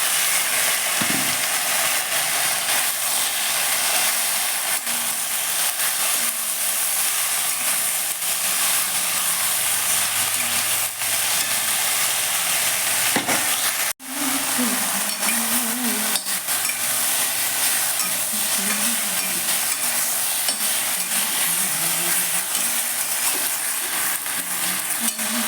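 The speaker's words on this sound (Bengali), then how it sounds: "আলু আর ভেন্ডিটা দিয়ে দিলাম, সঙ্গে হলুদ, লবণ দিয়ে এটা নাড়াচাড়া করে নেব" Potato, okra and water spinach frying in a pan with turmeric and salt while being stirred, a loud continuous hiss and sizzle with a few utensil knocks, close and without talking.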